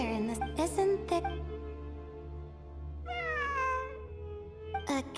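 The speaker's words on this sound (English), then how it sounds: "It really is a cat." Cat meowing inside the Genshin Impact video game, a few meows at the start and a long drawn-out meow after a pause, fairly close and clear over a steady low game background hum.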